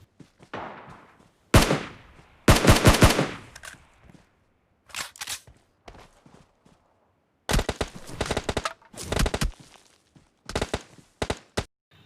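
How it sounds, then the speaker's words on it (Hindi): M4 rifle fire in PUBG Mobile on the Livik map: sharp bursts of shots in quick clusters separated by short gaps, loud and close, with some quieter single reports between the volleys. "वो बंदा वहाँ से रैंडमली M4 के शॉट्स ले रहा था"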